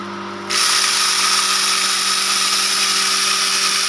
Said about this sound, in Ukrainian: Ну все, запускаю. Млин.